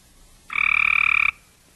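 A male frog gives a single mating call, a rapid pulsed trill of about forty evenly spaced clicks lasting under a second, loud and close against a quiet background.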